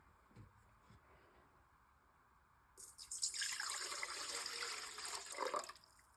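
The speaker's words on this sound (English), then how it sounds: "I put the water in first, so then everything kind of dissolves into it." Water poured into a bowl for sourdough bread, starting partway through as a loud, splashy rush that fills the space for several seconds, preceded by faint handling sounds.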